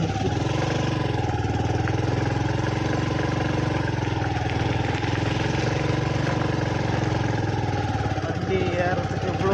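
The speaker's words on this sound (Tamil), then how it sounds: "வண்டி ஏறத்துக்கு இவ்வளோ முக்கிய பாருங்க" A vehicle engine labours steadily as it climbs the road to the Dharmaraja temple near Kuraiyapalayam, a loud, unbroken droning that holds for the whole stretch, with a voice talking over it.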